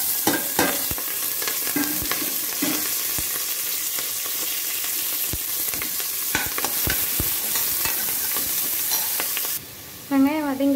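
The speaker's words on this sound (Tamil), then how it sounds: "வெங்காயம் வதங்கியாச்சு" Small onions sautéing in a pan for a country chicken curry, with a steady sizzle and repeated scraping, clattering stirs of a ladle; a brief tonal sound enters at the very end.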